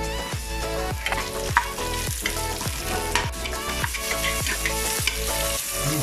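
Ginger and onion fry in a hot pan for a beef innards dish, a steady loud sizzle broken by regular rhythmic knocks of stirring against the pan, with no talking.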